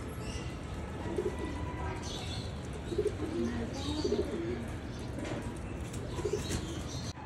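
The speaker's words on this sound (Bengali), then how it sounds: "নর কবুতরটা ডাকাডাকি শেষ হইতেছে না" A male pigeon coos in short, soft bursts, about four times, close by against a steady outdoor hiss.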